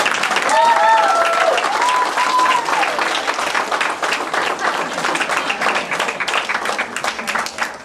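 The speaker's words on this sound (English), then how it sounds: "You can keep the applause going while we're doing it." Audience applause fills a martial arts belt ceremony at a family martial arts center, steady dense clapping throughout with brief voices and whoops at the start.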